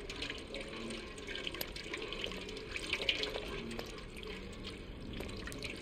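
Steady running tap water in the game Stray, a continuous soft splashing stream with faint drips, heard at moderate distance with no voices over it.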